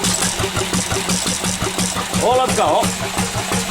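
A Lister engine runs with a steady, rhythmic mid-pitched chug, close and loud, while someone talks over it.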